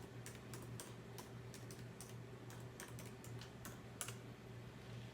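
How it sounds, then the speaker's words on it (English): A password being typed on a computer keyboard: a quick run of light, close key taps at an uneven pace over a steady low electrical hum, with no talking. "I typed it in"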